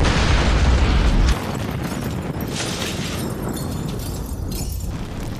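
A loud, deep car-bomb blast in a film rumbles for about a second, then settles into a dense roaring wash of noise that slowly fades.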